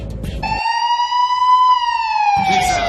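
A police car siren wails close behind a moving car: one loud, sustained rising-and-falling tone that dominates the whole stretch, with road noise around it.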